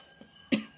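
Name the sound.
cough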